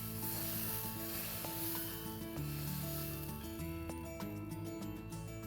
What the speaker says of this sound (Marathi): आता ही जी फोडणी आहे ती आपण हे उकळतं रस्सम आहे त्याच्यामध्ये घालणार आहोत